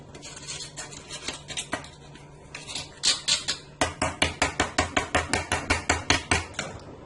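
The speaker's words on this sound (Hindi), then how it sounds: "एक दफा आप इसको इस तरह छुरी से रगड़ लें" A knife scrapes a metal tea strainer in a home kitchen: scattered scratches first, then a steady run of rhythmic rasping strokes, close and loud, with no one talking.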